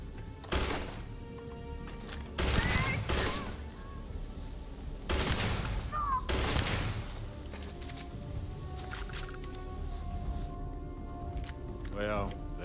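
Enemy gunfire in the Starfield video game, loud bursts of shots at irregular intervals with brief squeaky effects between them.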